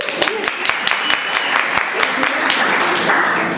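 An improv comedy show audience claps for volunteers, a burst of many hands in a small room, with a voice talking over the clapping.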